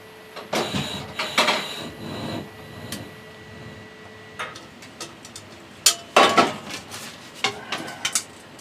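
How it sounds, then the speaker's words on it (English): Metal pots and pans clank and knock in several separate bursts, with sharp rattles close by and quiet gaps between them. "I'm going to get my pots and pans out."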